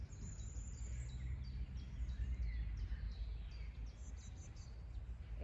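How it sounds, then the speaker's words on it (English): Birds singing in a park, a series of faint high chirps and short song phrases repeating over a low steady outdoor rumble. "Oh, it's so fun to hear the birds."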